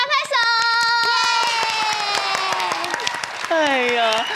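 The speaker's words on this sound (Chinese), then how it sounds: "我们一起帮小蚊子拍拍手" A group of children claps hands in a quick, steady rhythm of sharp claps while voices sing or call out in sustained tones over the clapping.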